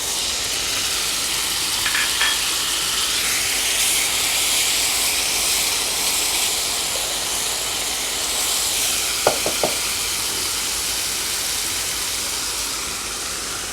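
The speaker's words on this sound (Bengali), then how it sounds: "এই মশলা ধোয়া জলটা আমি এর ভেতর দিয়ে দিলাম।" Spice-rinsing water is poured into a hot pan for a fish head kalia, producing a loud, steady hiss and sizzle with a few faint clinks.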